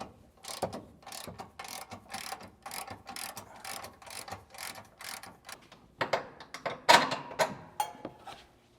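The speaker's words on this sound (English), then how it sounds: "Now with that same 21mm socket, we're going to remove these 2 bolts on each side." Socket ratchet with a 21mm socket loosening rear bumper bolts on a vehicle, a close run of rapid clicking bursts in uneven rhythm, growing louder and more clustered toward the end.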